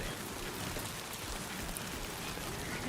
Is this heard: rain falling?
yes